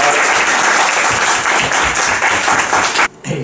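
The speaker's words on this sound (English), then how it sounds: "give Andy a round of applause" Dense, loud audience applause for a speaker at a talk, sustained clapping from a crowd that cuts off abruptly near the end.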